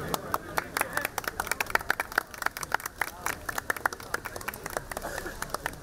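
On the riverbank, a group led by a minister claps to welcome a fire and rescue team. The applause is a dense, fairly near patter of hand claps that carries on throughout, with voices talking underneath.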